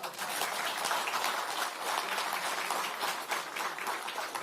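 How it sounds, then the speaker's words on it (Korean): An audience at a South Korean political party event for floor leader candidates claps steadily and loudly for several seconds, a dense, sustained round of applause with no voices over it. "잘했다고 생각하시면 박수 한번 주십시오."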